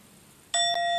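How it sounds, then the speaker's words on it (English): A single clear meditation bell strike from a phone app rings out after a brief quiet moment, its bright tone sustaining and shimmering as it begins to fade. "we have to get it started with the official ringing of the bell"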